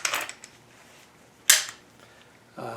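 Stock being collapsed on a Sig Sauer MPX short barrel rifle: two sharp metallic clacks about a second apart, close and fairly loud, followed by a softer rustle of handling.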